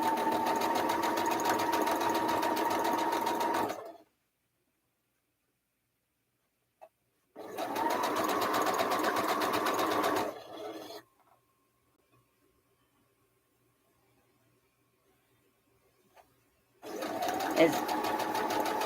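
A home sewing machine stitches in three bursts of steady, rapid whirring, each lasting a few seconds and separated by near-silent pauses, heard close up.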